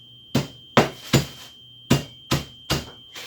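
Vanilla wafers are crushed quickly with a tool in a kitchen, making seven sharp, separate crunching thuds at an irregular pace over a faint steady electronic tone, with no talking.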